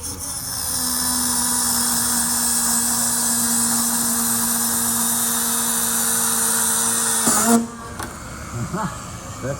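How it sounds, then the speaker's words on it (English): Dremel rotary tool cutting through a stem during a high-wing model aircraft build, a steady high-pitched whine held for about seven seconds before it stops, with brief bumps and handling noise afterward. "Mitchell, get me the Dremel. Am I cutting the stem too or no"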